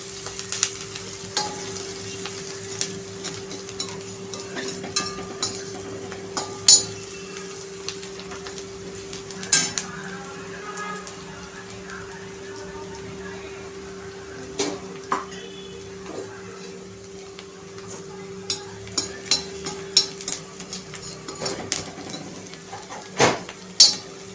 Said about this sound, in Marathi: आता हा आपण कांदा थोडासा लालसर करून घेणार आहे